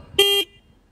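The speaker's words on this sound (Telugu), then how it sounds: "ఇది హార్న్ సౌండ్." A single short beep of a Hero Xtreme 125R motorcycle horn, sharp and close, lasting about a quarter second before silence.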